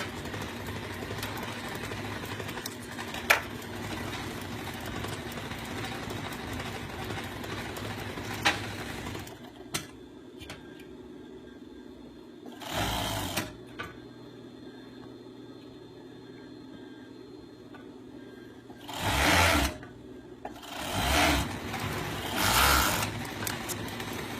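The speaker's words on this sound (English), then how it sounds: "right sides together, she's going to sew the one side seam" An industrial sewing machine stitches the side seam of a stretch knit beanie, with short loud runs of sewing near the middle and end separated by quieter pauses over a steady workshop hum.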